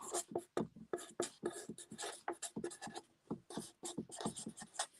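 Handwriting up close with a pen or marker, in quick scratchy strokes and taps that start and stop in an uneven rhythm.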